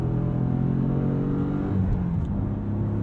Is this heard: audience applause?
no